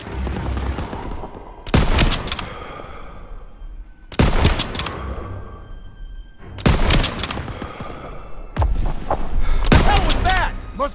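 Bursts of World War II battle gunfire in Call of Duty WW2, four heavy volleys of rifle and machine-gun fire with booming impacts, spaced a few seconds apart over ambient battle noise.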